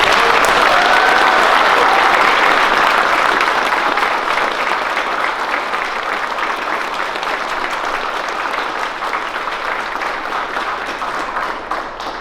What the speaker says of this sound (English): if we could we get one final round of applause for all of you?